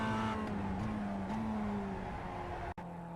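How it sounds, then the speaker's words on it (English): A Mazda MX-5 in iRacing at Oulton Park drones close by under braking, engine pitch stepping down through quick downshifts toward second gear, steady and continuous. "Brake in a straight line and shift all the way down into second gear"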